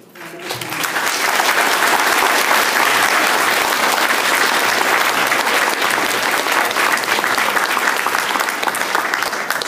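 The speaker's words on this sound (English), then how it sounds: "please give them a warm round of applause." A large audience at a city candidate forum applauds steadily, dense clapping that swells in quickly and carries on for several seconds.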